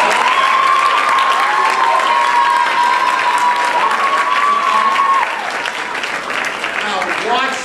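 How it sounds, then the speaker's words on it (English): An indoor awards-ceremony audience applauds seniors, steady dense clapping held for several seconds before thinning slightly toward the end. "Let's give the seniors a round of applause."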